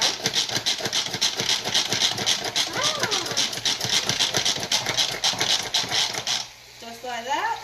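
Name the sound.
pumping a manual food processor to dice vegetables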